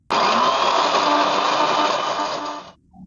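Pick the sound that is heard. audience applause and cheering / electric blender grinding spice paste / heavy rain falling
electric blender grinding spice paste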